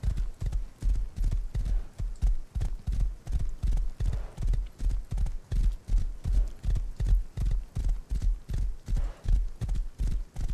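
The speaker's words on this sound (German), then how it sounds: "hier ist gerade ein Pferd" Rapid rhythmic hoofbeats of a galloping horse in the video game Rust, steady and continuous throughout, fairly loud and close with no voices.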